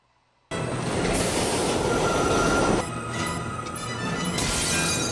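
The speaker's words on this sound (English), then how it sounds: "He heard the train coming." A subway train rushes in loud and close, a heavy rumbling roar with a thin metallic wheel squeal running through it, steady for several seconds.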